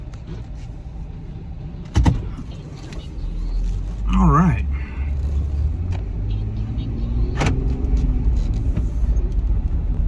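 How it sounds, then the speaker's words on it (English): Recorded inside a 2015 right-hand-drive Jeep Wrangler Unlimited with 200,000 miles, a steady low road rumble carries on as it drives along, with a few clicks and a brief electronic tone, and someone speaks briefly. "And we'll drive it just down the road here and take it back to the store."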